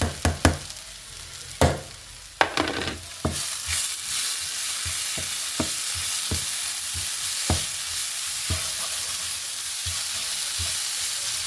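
Ginger garlic paste sizzles steadily in a kadai, with a few sharp scraping stirs near the start and then a continuous, fairly loud frying hiss with faint occasional clinks, no talking.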